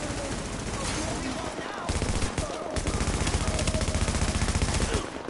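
Loud automatic gunfire from a shooting video game rattles in rapid, continuous bursts with only a brief break partway through.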